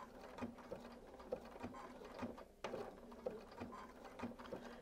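Domestic sewing machine stitching appliqué pieces for a Double Turbine quilt block, running in short bursts of rapid mechanical stitching with brief pauses between runs, close and steady.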